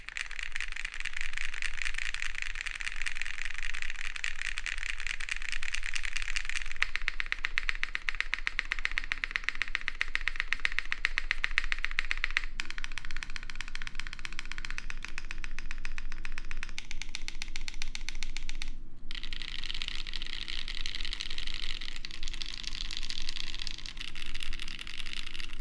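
Steady, fast clacking of typing on modded mechanical keyboard switches in a Space80 keyboard build, one switch slightly over-lubricated; the dense, close clatter runs continuously throughout over a faint low hum, with no talking.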